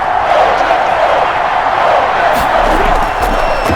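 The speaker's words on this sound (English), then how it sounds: "Crowd getting in it a bit already." A stadium crowd cheers in Madden NFL 21 during a Chicago Bears versus Green Bay Packers game, a loud, continuous roaring wash of voices with brief whoops rising near the end.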